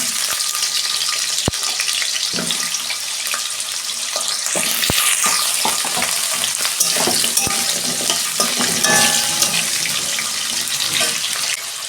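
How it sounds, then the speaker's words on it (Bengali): Potatoes fry in hot oil with a steady, loud crackling sizzle that runs continuously, punctuated by a few sharp pops and occasional stirring scrapes against the pan. "তেল গরম হয়ে গেছে, আলুটা ভেজে নিচ্ছি।"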